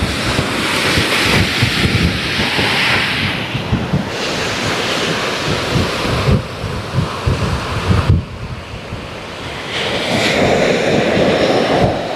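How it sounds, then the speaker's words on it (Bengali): Sea waves roll continuously onto a beach at high tide, a loud broadband surf roar with gusty wind noise buffeting the microphone and swelling and easing throughout, with no voices. "কত সুন্দর এখন জোয়ার হচ্ছে,"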